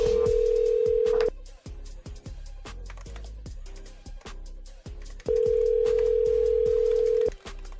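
A phone call rings out on the line: two long ringback tones, steady and fairly loud, separated by a gap of clicking and faint line noise. No one speaks.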